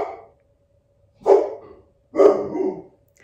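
A dog indoors barks at a window: two loud, close barks about a second apart, the second one longer and rougher, with a faint sound just before them.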